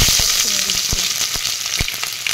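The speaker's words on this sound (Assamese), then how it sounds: "অলৰেডি কেৰাহী গৰম হৈছে মোৰ তেলখিনিও গৰম হৈছে ইয়াতে এতিয়া মই দিম ইয়া পাঁচফোৰণ দিছো" Panch phoron spices crackling in hot oil in a heated wok, a loud, close, dense sizzle with a few sharp pops and stirring knocks, no voice over it.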